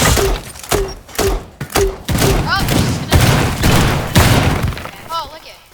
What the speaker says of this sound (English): I'm gonna shoot a cluster charge through you